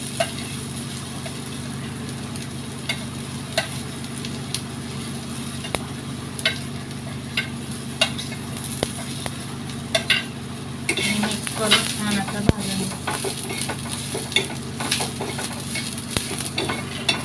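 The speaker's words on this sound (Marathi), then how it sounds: "आता आपण याच्यात तीळ आणि कारळे टाकून घेऊ" Sesame and niger seeds sizzle in oil with golden-fried onions, a steady close frying hiss broken by regular light spoon clicks and stirring, rising to a busier crackle partway through, with no talking.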